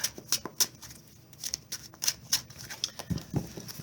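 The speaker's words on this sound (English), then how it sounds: "Shuffle up, draw a hand of 7." A deck of Magic: The Gathering cards is shuffled close up, with quick, irregular riffles and soft papery snaps over about four seconds, and no talking.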